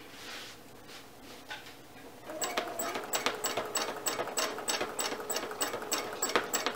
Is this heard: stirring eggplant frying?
no